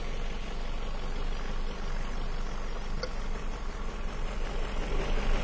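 A 2002 Ford Focus engine idles roughly with one spark plug pulled, giving a steady, loud, low mechanical drone with an uneven texture that holds throughout, close to the engine bay and without talk.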